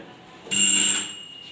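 A single loud electronic quiz buzzer, bright and harsh, lasting about half a second before cutting off into quiet room tone.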